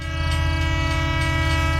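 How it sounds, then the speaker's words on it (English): A cartoon train speeds past at high speed, a loud, steady roaring rumble with a sustained horn-like tone filling the whole moment, close and alone. "a train sped past at high speed."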